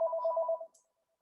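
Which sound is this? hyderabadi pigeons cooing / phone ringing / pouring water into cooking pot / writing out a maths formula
phone ringing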